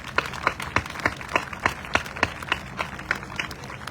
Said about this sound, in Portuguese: por isso uma salva de palmas para todos nós.